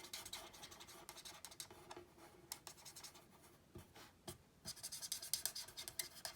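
A red alcohol marker in a dark cherry shade scratches and squeaks across paper on a card-in-a-box craft, quick close strokes in uneven bursts, some softer pauses between, no voices.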